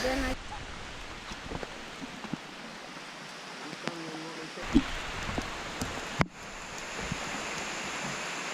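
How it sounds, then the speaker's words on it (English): Rain pours down during a forest hike, a soft, even hiss of drops on leaves and ground with a few louder close patters and rustles. There is a brief dip near the end. "it started to rain."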